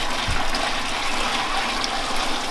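Hot sugar water pours steadily into containers while making muscadine wine, a continuous close gushing, splashing stream with no talk over it.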